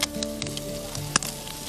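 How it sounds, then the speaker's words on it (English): Food sizzling on a hot barbecue in Thailand, a steady close crackle and hiss with a few sharp pops and clicks, no voices. "nice sizzle, it's exactly what I want to hear."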